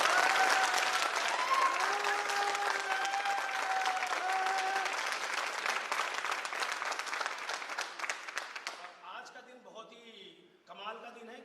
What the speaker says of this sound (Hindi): उनके नाम से भी इनके लिए 25वीं वर्षगांठ की एक बार जोरदार तालियां